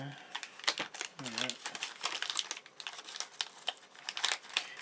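A sealed plastic bag crinkles and rustles close up in irregular bursts, with a brief voice sound near the start.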